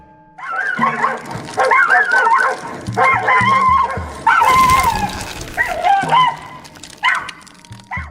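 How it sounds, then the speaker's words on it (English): Several dogs bark, yip and whimper excitedly around a parked car, recorded outdoors on a trail camera; loud, close, overlapping barks keep up continuously for about eight seconds with brief high whines between them. "Their tails wagged and they barked happily while checking out the car with curiosity."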